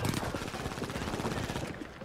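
Rapid automatic gunfire from the video game The Finals rattles in a dense, fast burst of shots for about two seconds, loud and close, ending abruptly.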